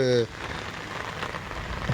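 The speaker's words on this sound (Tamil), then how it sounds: "இப்போ மழை வந்து நல்லா பேஞ்சிட்டே இருக்குது" Heavy rain falls in a steady, dense hiss onto a surface set out to collect rainwater. It runs throughout after a short tonal sound at the very start.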